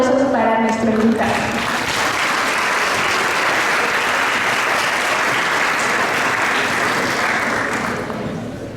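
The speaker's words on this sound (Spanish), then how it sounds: "unos fuertísimos aplausos para nuestro invitado" Loud, sustained applause fills a lecture hall on Ecuador's energy crisis as an invited guest is welcomed, steady and dense from start to finish after a short opening voice, then tapering slightly at the end.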